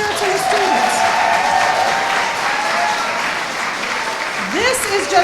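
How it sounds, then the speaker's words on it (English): Crowd applause for students and parents at a school district scholars reception, dense steady clapping throughout with some cheering voices rising near the end. "Clap for the parents and the students."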